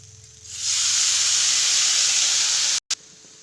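Lentils tipped into a hot cast iron pan for a bamboo shoot and lentil dish set off a loud, steady sizzling hiss that swells in and holds, with a brief break near the end.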